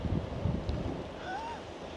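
Rushing wind buffeting the microphone during a military static line parachute jump, a loud steady roar with gusty low thumps over about two seconds.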